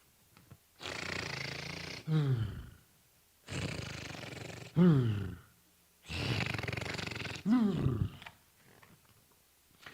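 A voice imitates a lion's low, rumbling growl in three long, loud, rough bursts, each ending in a falling groan, with brief pauses between them.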